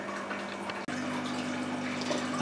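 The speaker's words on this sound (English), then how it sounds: "So let's get things underway and get some water in this." Water running into a hydroponic grow bed filled with clay pebbles, a steady low hum with continuous gushing that starts abruptly and holds at a constant level, close by with no talk.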